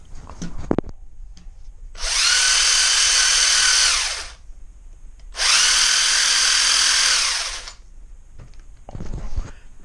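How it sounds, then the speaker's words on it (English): Two bursts of high, whining motor noise from a Banzai FTX S15 4WD RC drift car with metal gearing, each lasting about two seconds with a gap between, loud and close with a grinding, geared edge. "that's quite a bit of noise, probably because it's got the metal gearing in there"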